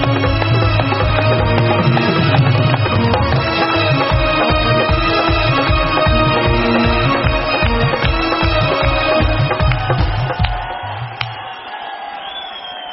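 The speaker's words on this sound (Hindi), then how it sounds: "जोरदार तालियां हो जाए" A large crowd at a Dera Sacha Sauda gathering in Sirsa claps and cheers loudly and continuously after a Guinness World Records certificate is presented, with steady tonal, rhythmic sound running beneath the roar before it thins out near the end.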